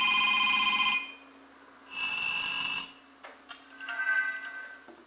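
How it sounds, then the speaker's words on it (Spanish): Ringtone of a Star A2000 mobile phone, a clear electronic melody played in short bright bursts separated by pauses, close and moderately loud with no talk over it. "pues este va a ser el tono del teléfono"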